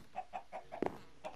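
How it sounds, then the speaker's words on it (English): Chickens clucking in the video game Minecraft: a series of short, evenly spaced clucks, fairly quiet and close, with one slightly louder squawk in the middle and no talking. "Look at all them chickens."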